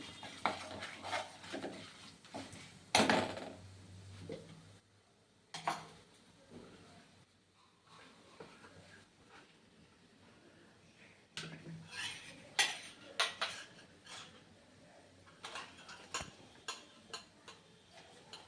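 Turmeric being stirred in a hot pan for a gongura pickle, with sparse metal spoon scrapes and clinks against the pan in irregular bursts over a quiet background, no talking.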